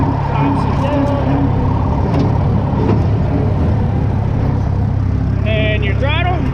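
A Case 800 tractor with a Case-o-matic drive runs with its PTO engaged while brush hogging, a loud, steady engine drone held close throughout, with a person talking over it.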